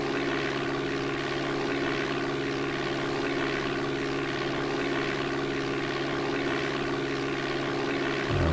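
Droning single-engine propeller of a Cessna Caravan in DOS-era Flight Simulator 4, a steady synthetic buzzing hum with fixed pitch that runs continuously and evenly, loud and close, with no talking.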